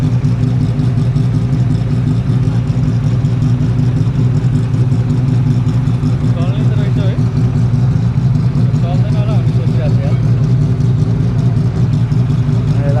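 A car engine runs steadily at a Hankook tire shop's grand opening in Jeddah, Saudi Arabia, a constant low hum with its cover removed, while people talk nearby throughout.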